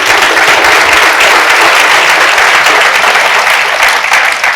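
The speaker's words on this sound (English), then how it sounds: "Round of applause for Brittany." Loud, full round of applause from a summit audience at a London product-marketing event after a talk, dense and sustained clapping from many people at close range, steady throughout with no speech.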